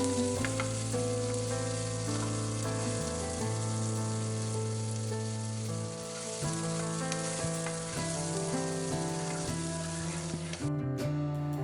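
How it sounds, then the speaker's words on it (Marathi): A large, finely chopped onion and cumin fry in hot oil for street-style masala pav, the steady crackling sizzle running throughout beneath prominent background music. "आता आपण या कांद्याला हलकासा गुलाबी रंग येईपर्यंत तळून घेणार आहोत"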